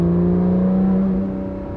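A Porsche 991.2 GT3 with its 4-liter engine running hard, giving a loud, steady, close mechanical drone with strong low harmonics that eases off slightly near the end.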